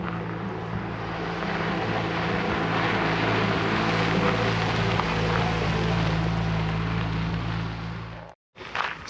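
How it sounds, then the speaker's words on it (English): Vehicle driving up a rural road past a home garden area, a steady engine drone with low rumble holding at moderate loudness throughout before cutting off abruptly near the end. "I'm just noticing somebody's driving up the way here."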